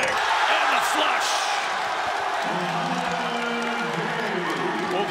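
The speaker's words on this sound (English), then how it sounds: "the dunk gets the crowd excited behind us" Basketball crowd cheering in an arena after a dunk in a college men's game, Washington State against UCSB, a sustained roar of fans with a commentator talking over it.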